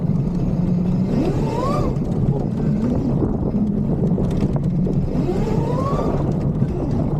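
A 50HP three-wheeler golf cart drives through snow, its engine droning loudly with two rising revs as the wheels briefly spin, under constant wind buffeting.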